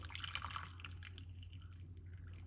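Good organic honey being poured out, a faint, soft trickling drip of liquid over a low steady hum, quiet and close.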